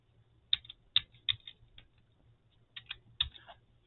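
A password is tapped out on a computer keyboard in a quiet room: a handful of crisp, close key clicks in two short bursts separated by a brief pause.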